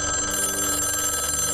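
A telephone rings in a scene from the Loki TV series, a steady electronic ringing tone that is loud and sustained throughout, heard alone with no talk.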